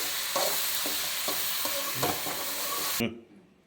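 Okra stir-fried in a pan for chutney, a steady close sizzle with regular scraping strokes of a spatula every half second or so, cutting off abruptly near the end.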